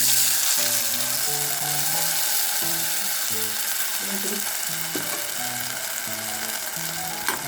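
Jowar flour mixture sizzles and crackles steadily in a hot pan as it is poured in and stirred, with a loud continuous fry and scattered tonal bits over it.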